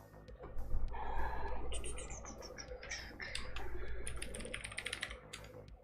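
Fingers tap out a password on a computer keyboard in quick, uneven bursts of close clicks and key presses with brief pauses between runs, quiet and without speech.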